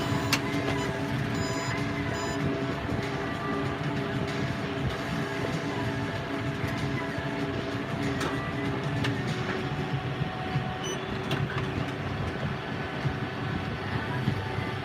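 A hay baler picks up a big windrow in a field, giving a steady, loud mechanical drone and rumble of engine and pickup machinery throughout, with intermittent clanks and a faint voice.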